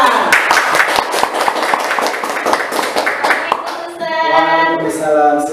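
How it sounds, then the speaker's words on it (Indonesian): A studio audience on an Indonesian Ramadan TV show claps in a steady, fairly loud rhythm for a guest nurse, with talk running over the clapping until it gives way to speech. "Tepuk tangan."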